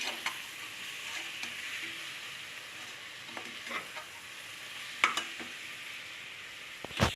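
Onion and garlic sauteing in a pan for tomato rice, a steady low sizzle with occasional spatula taps and scrapes, a couple of sharper knocks toward the end, no voices.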